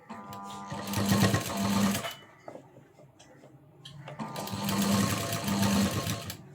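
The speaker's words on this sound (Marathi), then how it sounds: "आणि अगदी खाचेमध्ये आपल्याला ती शिलाई घ्यायची." A sewing machine stitches piping into a blouse neckline in two close, rapid bursts of stitching, separated by a brief quiet pause while the fabric is handled.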